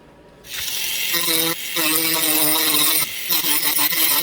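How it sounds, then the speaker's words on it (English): An abrasive cutoff wheel grinds a flat spot into a metal drive shaft for a radio-controlled hydroplane's flex cable, a loud, steady, high-pitched whine that starts abruptly and holds with brief dips as the cut progresses. "we'll get our flat spot started with this cutoff wheel"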